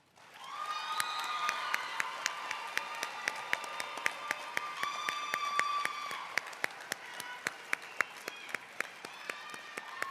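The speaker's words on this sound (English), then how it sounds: "Let's give them another great round of applause" An audience applauds after the speeches at the Dallas ISD MLK Jr. oratory competition: dense, sustained clapping rises quickly and holds for about ten seconds, with some cheering and a few sharp, distinct claps standing out.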